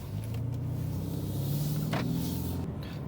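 A 2021 Hyundai Sonata N-line, a front-wheel-drive sedan rated at 290 hp, heard from inside while driving, with a steady low engine drone and road rumble continuing throughout and no talking.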